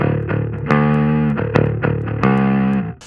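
A distorted metal bass riff with cabinet simulation back on sounds tighter and fuller. A few sustained picked notes with sharp attacks ring out loud and close, then cut off.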